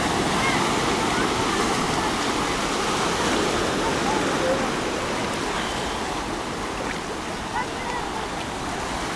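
Waves roll onto the shore at an Alanya beach, a steady wash of surf heard close and continuous, easing slightly toward the end.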